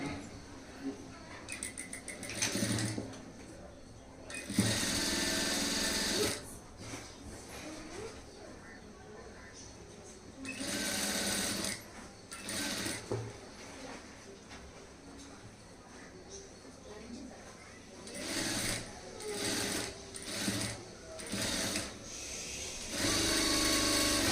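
Sewing machine stitching the seam of a blouse sleeve, sounding in several bursts of rapid whirring with pauses between them, while someone talks between runs.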